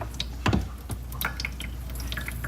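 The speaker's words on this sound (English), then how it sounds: "See, it's dripping." Water dripping from a tube on an RO/DI filter unit, a few sharp close drips and small splashes over a soft running-water background, with no talking.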